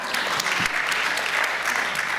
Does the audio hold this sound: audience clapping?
yes